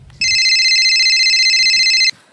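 A telephone plays its electronic ringtone as a steady, loud, high-pitched tone held for about two seconds, clear and alone, then stops abruptly.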